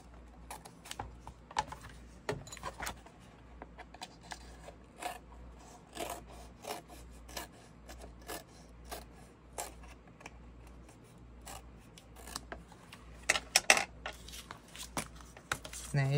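Scissors cutting down the middle of a Little Golden Book's pages, crafting a junk journal: a long series of sharp, close snips and paper crackles at an uneven pace over a quiet background.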